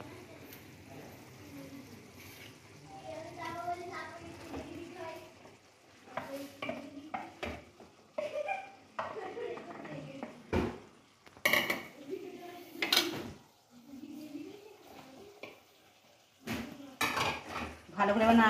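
A spatula stirs mutton with fried potol and potato in a metal pan, giving irregular scrapes, clanks and knocks with a soft sizzle underneath, and a voice speaks briefly near the start.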